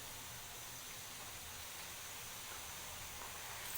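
Garlic-ginger paste frying with browned onions for a fish curry gives off a faint, steady, even hiss from the pan, unbroken and without talk.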